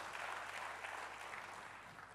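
A church congregation applauding during worship, a faint but continuous wash of many hands clapping in a room with a low steady hum beneath it.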